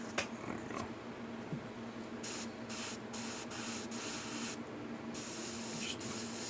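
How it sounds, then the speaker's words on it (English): An airbrush sprays paint in a test burst before laying skin-tone color on a Huntress figure, a faint steady hiss with several short on-off bursts near the mic. "Just test your paint, test your airbrush."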